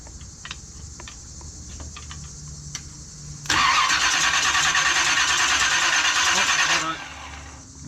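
The starter cranks the engine of a 1976 Chevy K-20 pickup under restoration. It makes one loud, sustained grinding burst of about three seconds after a stretch of quiet ticking and faint talk, then stops.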